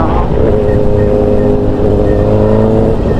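A motorbike passing on a road during a long ride, a loud continuous engine drone with low rumble dominating close by.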